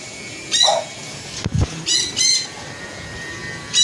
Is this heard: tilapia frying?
no